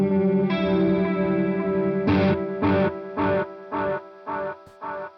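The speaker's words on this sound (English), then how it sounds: "So now we have a delay pedal and a chorus pedal in our B loop." Electric guitar run through a delay pedal and a chorus pedal in the B loop of a Joyo Orthros line switcher: a sustained shimmering chord, then five evenly spaced strummed chords, each fading with a swirling, repeating tail.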